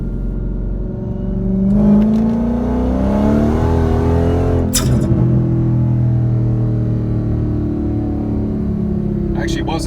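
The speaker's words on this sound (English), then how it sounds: "I'm going to step in with just a gentle little tip, and you can see how fast this thing makes boost." A Dodge Hellcat on light, roughly half throttle revs up from a deep idle, its pitch rising as boost builds, then settles into a loud, steady rumble with a sharp burst midway and someone talking over it.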